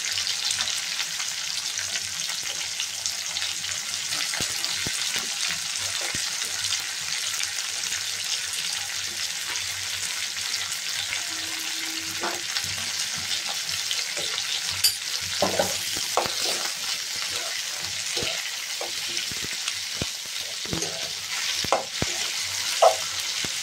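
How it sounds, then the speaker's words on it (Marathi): Chopped onions being sautéed in a pan for spicy Maharashtrian matki usal (moth bean curry), with steady soft sizzling and occasional stirring scrapes close by, no voices. "आता आपण त्याच्यामध्ये कांदा घालून परतवूया चांगलं।"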